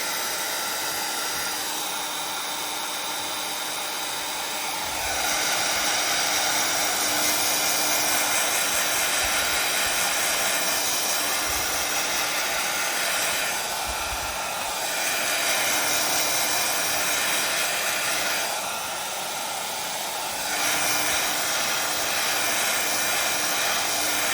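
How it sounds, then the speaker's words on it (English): A heat tool blows hot air with a loud, steady whirring roar, switching on and off in several long bursts over the stretch. "hit it with a heat tool."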